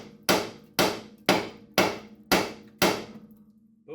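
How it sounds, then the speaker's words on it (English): A hammer strikes the front strut assembly of a Lexus GS AWD six times in a steady rhythm, each blow a sharp close metallic knock with a short ringing decay. "now you can just give her a couple of hammers"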